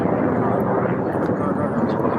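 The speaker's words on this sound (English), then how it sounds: "I think the helicopter." Helicopter flying overhead, a steady loud rotor and engine drone that fills the whole clip.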